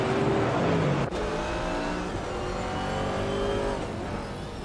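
Racing cars in a video game, including a 1964 Cheetah GT, roaring around a track with revving engines and shifting pitches, one car sweeping close by early on amid a steady engine drone.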